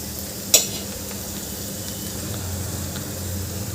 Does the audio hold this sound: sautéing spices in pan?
yes